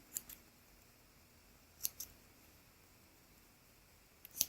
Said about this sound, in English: Trim off my threads.